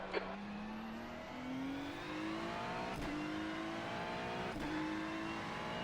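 Race cars run at Spa in a sim racing game, an engine note steadily rising through the gears with brief shift breaks, while other car noise hums underneath at a constant, moderate level.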